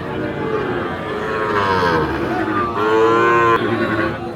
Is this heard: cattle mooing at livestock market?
yes